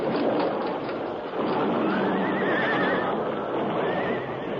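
Horses whinny loudly over a dense rumble of hooves and rolling movement, the neighs rising and falling across the whole stretch.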